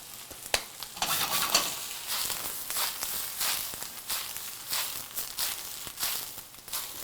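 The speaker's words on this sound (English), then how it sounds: "You just want to saute this around a little bit, get those spices worked all the way through" Pork sautéed with salt, black pepper, crushed red pepper and oil in a pan, with a steady close sizzle broken by repeated scraping stirs, and no talking.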